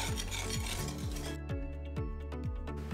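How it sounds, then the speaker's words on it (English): A spoon stirs gelatin, salt, coconut flour and baking soda together in a bowl for avocado brownies, making a close, rhythmic scrape-and-clink stroke roughly twice a second, repeated evenly, with no talking. "the gelatin, the salt, coconut flour, baking soda, and I'm gonna go ahead and just kind of combine this up a little bit"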